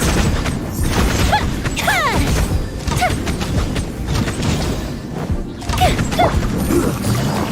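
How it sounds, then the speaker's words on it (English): Fireworks burst in the Genshin Impact video game: dense, continuous crackling and booming with several whistling launches rising and falling throughout, loud and close. "Here come the fireworks."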